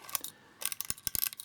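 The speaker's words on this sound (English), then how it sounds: "you'd advance film, cock the shutter" A Nikon S2 35mm rangefinder camera having its film advanced and shutter cocked: quick close-up series of dry mechanical clicks and ratcheting ticks in short bursts, quiet and without speech.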